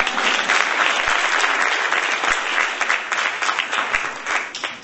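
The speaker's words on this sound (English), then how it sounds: "So please give Kay a round of applause." A crowd at a women's summit in the Philippines claps steadily in warm, sustained applause that fills the room, loud and close, fading slightly toward the end with no speech.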